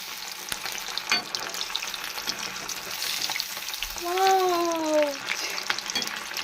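Bombay duck fish coated in semolina frying in a pan, a steady crackling sizzle with occasional clicks and a brief tonal whine partway through, moderately close with no talk.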